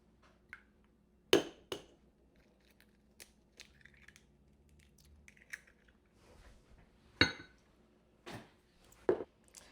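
Cage-free eggs being cracked into a 2-cup measuring cup, several sharp shell taps and cracks spaced apart, close and crisp, with quiet handling sounds between them.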